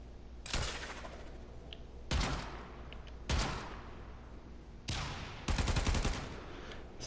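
Zenith rifle fire in Warframe: four sharp bursts of rapid automatic shots, the last a long rattling volley, each loud and close with quieter gaps between.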